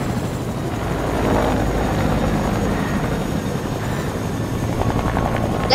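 A helicopter's rotor in the game Fortnite thrums steadily throughout, a loud, continuous chopping drone with no voices over it.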